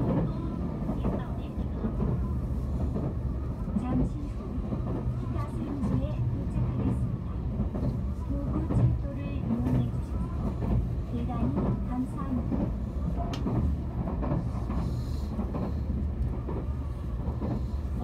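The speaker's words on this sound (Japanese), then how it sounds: "電車は間もなく北千住に到着をいたします。" A Tobu Railway Liberty limited express train runs toward Kita-Senju, a continuous low rolling rumble with rhythmic clicks and rattles under the cabin, steady and close for the whole stretch, with muffled voices or announcements faintly mixed in.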